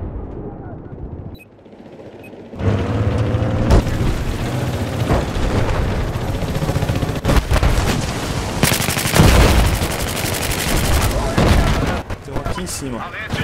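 Rapid Battlefield 4 gunfire on the Operation Firestorm map crackles in loud bursts, with scattered single shots and a heavy burst near the end, over a constant busy game-audio background.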